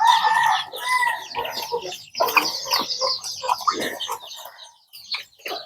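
Chickens on a rural Lao farm cluck and squawk in a busy, overlapping chorus, with a rooster crowing near the start and scattered sharp calls close by, no speech.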